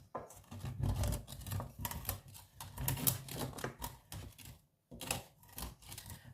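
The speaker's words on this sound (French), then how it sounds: "c'est qu'on va tout simplement gratter la poêle" A utensil scrapes an untreated frying pan to lift meat stuck to it while making meatballs with peppers. Repeated rasping strokes come close and fairly loud, with a brief pause near the end.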